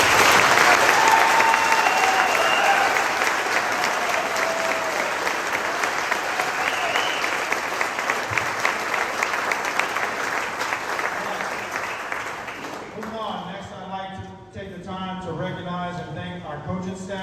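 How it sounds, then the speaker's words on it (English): Audience applause at a high school baseball awards banquet, a loud, dense burst of clapping that fills most of the clip and slowly thins before a voice starts talking near the end. "Everyone, please give this year's senior class a round of applause."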